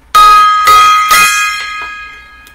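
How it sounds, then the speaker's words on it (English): A gong or bell is struck loudly three times in quick succession, each ringing metallic strike overlapping the last before a long shimmering decay, with a faint extra tap at the end. "Some gong action there."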